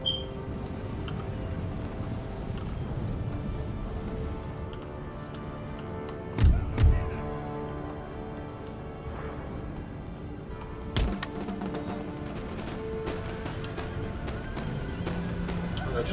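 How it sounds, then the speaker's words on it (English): Dragoon cavalry horses charge in an Empire Total War battle as a rolling rumble of hooves with a couple of sharp thuds and whinnies, while a voice talks over the battle noise. "they're just charging their dragoons in"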